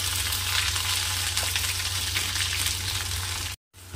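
Cumin, curry leaves and an onion-garlic paste sizzle steadily in hot oil in a pan for a spicy dry-coconut amti, a dense continuous frying hiss with no talk, ending in a brief dropout.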